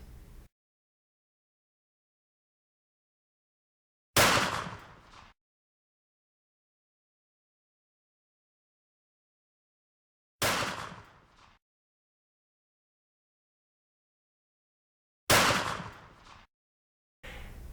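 A Taurus Judge revolver fires CCI .45 ACP shot shells: three loud, sharp, close reports spaced several seconds apart with dead silence between them, each trailing a short echo, and a fourth starting at the end.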